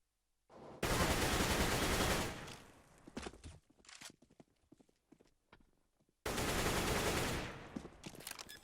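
Pistol fire in CS:GO on the Cache map, a P250 popping off scattered pot shots: sharp, separate cracks between two long, dense bursts of louder, broadband gunfire noise.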